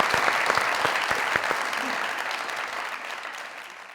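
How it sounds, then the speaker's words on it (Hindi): Studio audience of a Pakistani comedy talk show breaks into loud applause, dense clapping that starts strong and slowly tapers off over a few seconds, with no talk over it. "जरा बाबर साहब के लिए तालियां और सीखने वालों के लिए मौका।"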